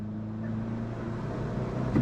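An old Ford Escort MK3 engine drones steadily with a low, constant hum, heard close and up front as the car drives, with no talk over it.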